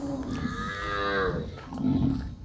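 A cow moos once, close and drawn out, at a traditional cattle market, with rustling market noise around it.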